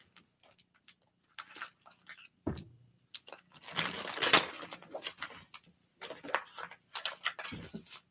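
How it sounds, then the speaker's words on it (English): A tarot card deck shuffled by hand, with crisp bursts of riffling, flicking and tapping in irregular clusters separated by short pauses, close and clear. "One more shuffle"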